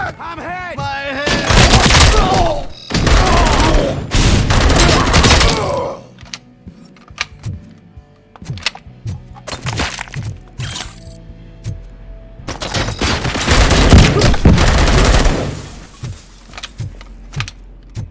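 Bursts of gunfire in the video game Robocop: Rogue City, several loud dense volleys separated by quieter stretches of clicks, thuds and mechanical clatter, with brief voices.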